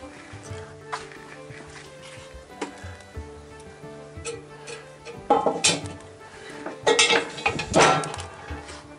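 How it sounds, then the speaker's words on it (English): A cast iron Dutch oven being set down on a fresh layer of charcoal outdoors, heard as a series of metallic clanks and scrapes that grow louder toward the end, over faint background noise. "I'm going to go ahead and put that still warm Dutch oven right back up on top of a new layer of charcoal"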